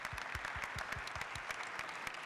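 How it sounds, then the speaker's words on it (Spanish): A short burst of audience applause at a book presentation, many hands clapping together in a brief, fairly faint round. "Sí, un aplauso"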